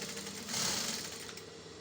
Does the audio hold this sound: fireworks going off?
no